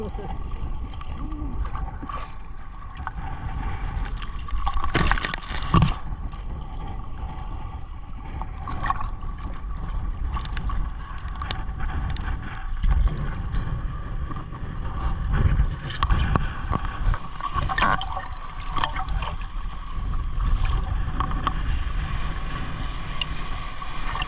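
Rough waves slap and splash against a small boat at sea, with irregular thuds and wind buffeting the microphone, and voices talking now and then.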